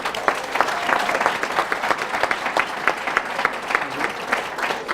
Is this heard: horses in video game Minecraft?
no